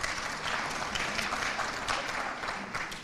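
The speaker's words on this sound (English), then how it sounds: "one more round of applause for all of our Mission Mover Awards" A crowd at the 50th anniversary celebration of Prevention Works applauds the Mission Mover Award recipients, with continuous, even clapping that sounds somewhat distant and subdued.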